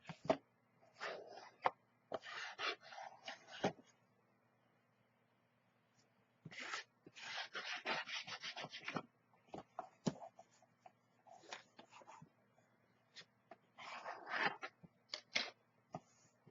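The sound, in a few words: burnishing a paper craft box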